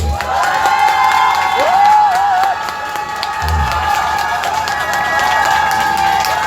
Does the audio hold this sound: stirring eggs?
no